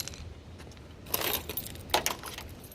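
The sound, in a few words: keys jangling while handled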